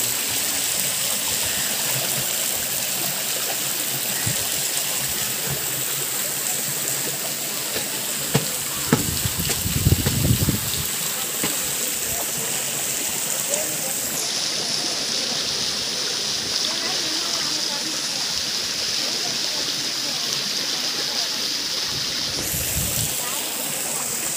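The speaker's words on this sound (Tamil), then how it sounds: "எங்கள் கிணத்துக்குள்ளேயே ஒரு ஷவர் இருக்குது" Water pours down steadily inside a village well, like a shower, as a continuous loud rushing splash that lasts throughout, with a brief lower thump partway through.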